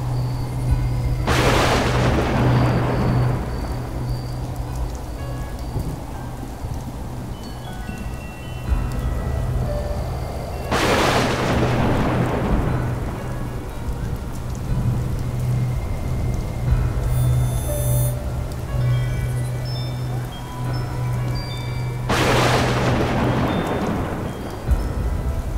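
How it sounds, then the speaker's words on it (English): Steady rain pours in Fallout 76, broken by three long rolling thunder cracks spaced about ten seconds apart, each fading slowly back into the constant hiss of rainfall. "It's raining."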